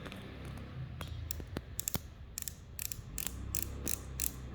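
A micrometer's ratchet clicks in quick, crisp bursts while measuring the skirt of an engine piston, sharp ticks close up over a low background hum, with no voices.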